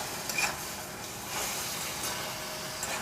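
Marinated chicken cooking in a kadhai over a low flame, a soft continuous sizzle with faint stirring scrapes, fairly quiet and without speech.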